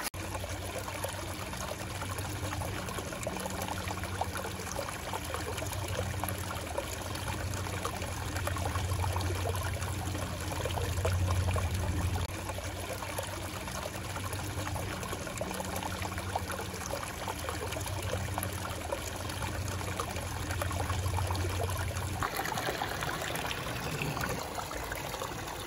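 Water trickles and splashes continuously in a backyard aquascape pond, making a steady, close, gentle babble with a low burble beneath it.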